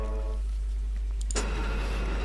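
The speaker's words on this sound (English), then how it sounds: "Everything mechanical in Thief makes a ton of noise to discourage you from using it, but we have to use this lift." A mechanical lift in the game Thief: The Dark Project starts up with a sudden loud clank and then settles into a steady grinding mechanical rumble, heard alone.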